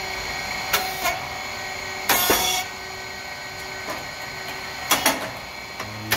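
A SYP3012 rice cake machine making thin crispy cakes, running after start-up: a steady mechanical hum punctuated by loud pneumatic hisses and clanks at irregular intervals, with no talk.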